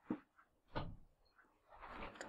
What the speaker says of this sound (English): Let's just open the door.